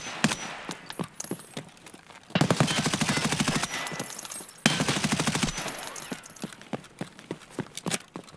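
Gunfire in the video game Escape From Tarkov: scattered single shots, then two long rapid automatic bursts with a fast even rhythm, then more sporadic nearby shots.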